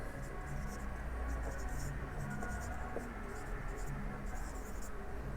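Marker or chalk scratching across a classroom board as an equation is written out, faint squeaky strokes in short bursts over a constant background hum.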